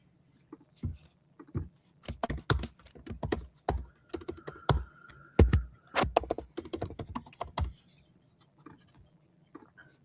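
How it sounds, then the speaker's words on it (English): Fast, forceful typing on a computer keyboard, dense bursts of sharp key clicks and clacks with short pauses, close and clear, no talking over it. "You got to attack the keyboard."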